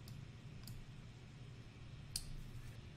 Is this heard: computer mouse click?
yes